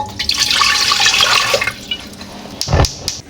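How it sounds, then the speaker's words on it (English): Water pours and splashes steadily into a pot as Jamaican peanut porridge gets started, the rushing stream trailing off before a final short gush, close and fairly loud. "Water."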